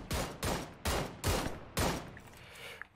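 Gunfire in PUBG Lite: five loud, sharp bursts of shots in an irregular rhythm over three seconds, then a quieter stretch with faint distant pops.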